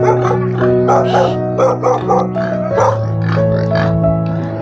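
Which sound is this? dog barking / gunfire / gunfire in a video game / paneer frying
dog barking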